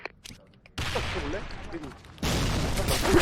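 A grenade goes off in the online shooter Sudden Attack, a sudden loud burst of noise followed by another heavier blast and sustained rumble, with a voice and game sounds underneath.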